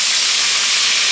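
Hotpot base and doubanjiang bean paste being stir-fried in oil, a loud, close, continuous hissing sizzle without breaks or voices.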